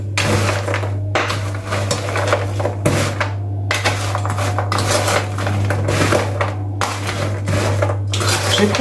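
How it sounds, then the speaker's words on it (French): Potatoes and minced meat mixed in a baking dish, with busy close clinks and scrapes of a utensil against the dish, loud and continuous over a low steady hum, no voices. "Je vais bien mélanger tout ça."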